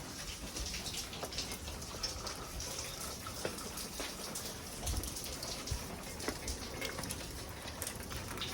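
Heavy rain falling during Hurricane Hanna, a dense steady patter and hiss of drops hitting surfaces with scattered louder splashes, continuous and close throughout, with no talking.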